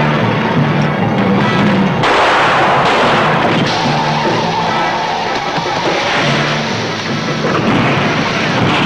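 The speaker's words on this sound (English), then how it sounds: "These two make their own fireworks." Fireworks bursts from a 1966 film trailer: dense, continuous booming and crackling blasts fill the whole stretch, loud and near, with sharper bangs around the two- and five-second marks over a busy soundtrack.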